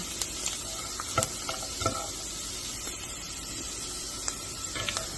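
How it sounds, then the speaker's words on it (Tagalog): Ginger browning in a frying pan, a steady quiet sizzle with faint stirring clicks and scrapes. No one speaks over it. "Medyo i-brown lang po natin ang luya."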